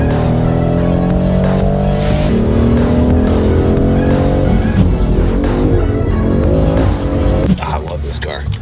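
A car's engine revs hard and changes pitch through several gear shifts during a ride in a fast collector car. It sounds loud and close, with a drop-off near the end, and people talk over it.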